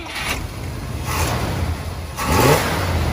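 A 2.5-ton 1963 Cadillac Series 6200 sedan with a 6.4-liter pushrod V8 and four-barrel Rochester carburetor rumbles and revs, with a rising surge of engine roar over steady noise.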